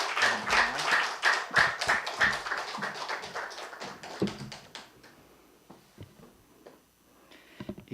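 A church congregation at a Wednesday service applauds to welcome a missionary, with a dense burst of clapping that thins out and fades to scattered claps.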